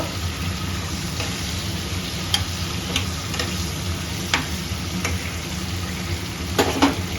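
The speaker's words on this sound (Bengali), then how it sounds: "আলুটা একটু লাল লাল করে ভাজবো তেলটার মধ্যে" Potato pieces frying in oil with turmeric and salt, browning for a fish curry: a steady close sizzle with occasional sharp clicks of stirring, no voices.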